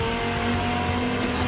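Audi GT race car number 88 at Okayama in a GT Asia race, its engine droning loud and steady with a strong tonal whine throughout, the spin itself not clearly distinct.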